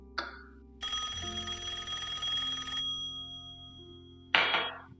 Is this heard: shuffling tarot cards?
no